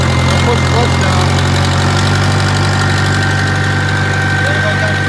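A Case 580CK backhoe's diesel engine runs loud and close, a steady knocking rumble at constant pitch throughout with no pauses.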